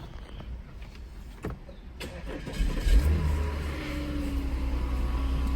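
Audi A5 with a 3.2L V6, freshly fitted with new spark plugs and coils, idles and then revs up in a steady low engine drone. There are no misfire stumbles, and the sound grows louder and holds.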